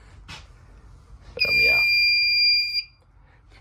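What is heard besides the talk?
Gentex Commander fire alarms sounding, Fire-Lite MRP-2001 system test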